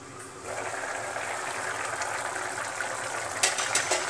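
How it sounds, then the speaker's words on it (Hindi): A pot of potato and pumpkin sabzi at a steady boil on a home stove, a close, continuous bubbling hiss with a few brighter pops toward the end. "ये देखिए मेरा सब्जी हो गया, अच्छी तरीके से उबल रहा है देखिए।"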